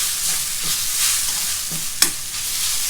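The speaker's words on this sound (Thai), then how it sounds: "จะมาผัดนะคะ" Vegetarian Betong noodles being stir-fried with vegetables in a pan, giving a steady close hiss of frying with a few soft scraping stirs and one sharp utensil clink near the end, no voices.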